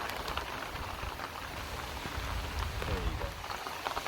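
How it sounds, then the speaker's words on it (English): Steady rain patters on an outdoor surface, a dense continuous hiss of drops close by, with a faint voice murmuring under it. "Down comes the rain."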